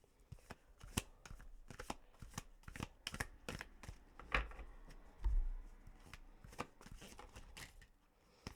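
A deck of tarot cards being shuffled, a quick run of crisp riffling flicks and snaps close by, with a couple of heavier taps midway, and no voices.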